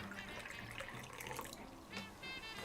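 A faint, steady pour of liquid into a container sounds alone, with a soft continuous splashing trickle throughout.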